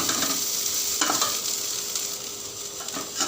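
Continuous frying sizzle with a spoon stirring and scraping through potatoes with salt and turmeric in a pan, a few louder scrapes standing out, no voices.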